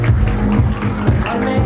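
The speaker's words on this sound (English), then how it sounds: "Big round of applause for him," Audience applause at a university felicitation and pre-departure ceremony, steady and dense, loud and close, with rhythmic clapping continuing throughout.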